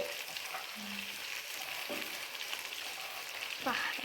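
Pepper chicken frying in a pan: a continuous, fairly quiet hiss of sizzling fat with occasional soft utensil scrapes and a brief clatter near the end, no voices.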